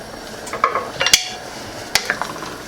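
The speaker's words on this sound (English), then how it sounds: "Give that a stir." Dirty rice with smoked paprika and bay leaves stirred in a pot, a few sharp utensil clinks and scrapes against the metal over a low background hiss.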